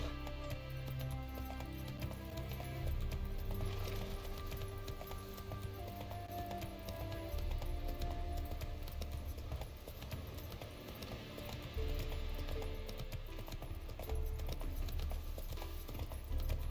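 Horse hooves clip-clop in a steady galloping rhythm in The Witcher 3, loud and continuous with game music beneath and no talk.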